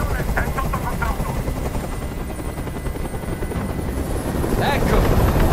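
Helicopter hovering during a hostage standoff in Detroit: Become Human, a loud continuous chopping rotor drone close by, with brief voice-like bursts at the start and near the end.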